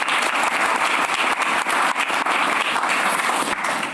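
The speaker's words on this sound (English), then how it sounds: "round of applause to them" Dense, steady applause from a summit audience fills the whole stretch, loud and continuous with no talking over it.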